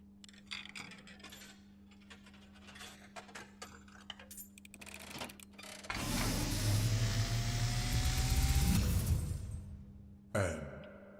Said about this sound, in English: I am awakened at the sound of a dropping coin